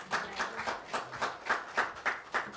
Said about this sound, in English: Yeah, that did deserve a round of applause.